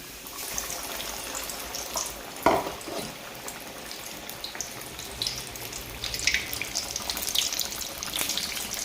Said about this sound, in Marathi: आपण आता हा फिश तळून घेणार आहे तेलामध्ये